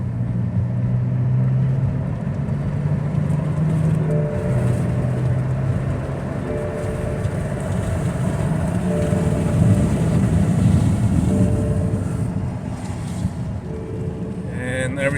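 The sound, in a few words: 2006 BMW with ZF6HP transmission driving on test drive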